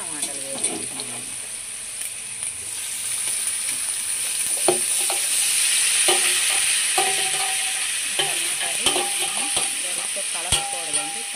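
Tomatoes and cumin seeds hit hot oil in a pan, giving a steady bright sizzle and hiss with scattered spoon-and-pan knocks and stirring clatter throughout.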